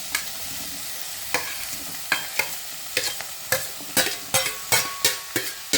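Onions fry in a pan with a steady sizzle while a utensil stirs them, scraping in repeated sharp strokes that grow more frequent toward the end; no voices.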